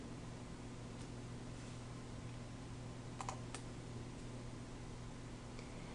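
Keys tapped on a computer keyboard while spreadsheet formulas are entered: a few faint, scattered clicks in close succession over a steady room hum, with no one speaking.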